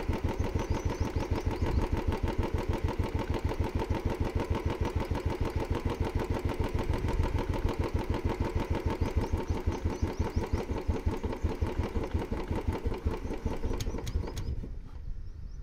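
A motorcycle engine idles during carburettor tuning, a steady rapid thumping pulse that runs close and even before cutting out near the end.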